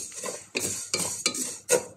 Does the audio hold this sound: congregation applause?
no